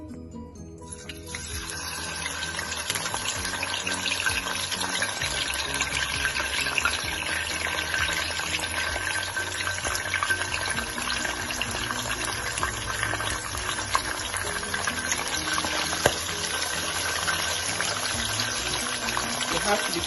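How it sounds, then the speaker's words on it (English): Cooked beef dropped into hot oil in a pot, frying with a dense, continuous loud sizzle and spatter that holds steady throughout. "Like the oil is hot, and I'm going to put in my beef, which I cooked"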